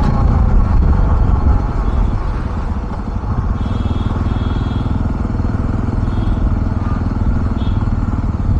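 A Jawa 42 Bobber BS6 cruiser motorcycle (2024) being ridden, its engine a steady loud drone with road and wind rush throughout.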